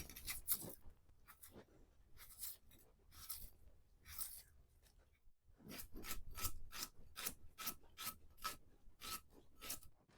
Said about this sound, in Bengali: চলুন পেঁয়াজটা কেটে নিই।